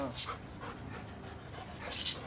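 A Belgian Malinois shepherd dog pants in quick, breathy bursts close by during heel training, with faint whimpering and some background noise.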